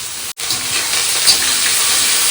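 Garlic, onion, green chili, tomato and ginger sizzle in a hot pan with a steady, loud hiss, broken once by a brief near-silent dropout early on.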